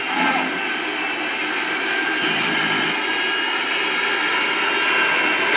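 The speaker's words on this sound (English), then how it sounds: "No, that's our Harrier." Harrier jet in Modern Warfare 2 gameplay, a steady broadband jet-engine roar holding at constant loudness throughout with no distinct pass-by, a brief brighter hiss partway through.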